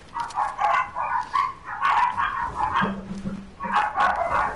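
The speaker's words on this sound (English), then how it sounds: "I do apologise for the dogs barking." Dogs barking downstairs in a house, several sharp overlapping barks in bursts with a brief low whine, moderately loud and somewhat distant.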